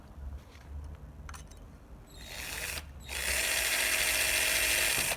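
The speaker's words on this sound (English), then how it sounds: "Drill through the cranial cortex of the tibial crest." A drill with a 1.5 mm bit bores through the tibial crest of a dry-lab bone model, a faint whir building to a loud, steady high-pitched whine that holds until the end.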